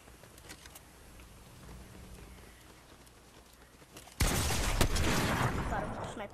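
A sniper rifle fires in Fortnite, one sudden loud crack that erupts into a dense burst of noise after a stretch of quieter game sounds and faint footsteps.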